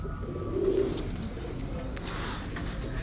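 A pigeon cooing in a loft among other birds, a short low coo up close over a steady hum of background noise.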